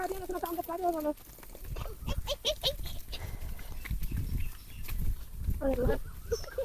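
Goats grazing in an open village field bleat a few times nearby amid outdoor noise, with people talking over them.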